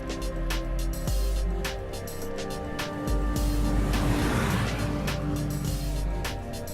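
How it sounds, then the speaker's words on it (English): A Jaguar car accelerates around a corner, its engine a steady low drone with faint passing-road texture that builds and eases over several seconds, heard alone without talk. "As the vehicle accelerates around the corner, the traction control systems, in conjunction with slip control systems, will ensure we're delivering optimum tractive effort to the road"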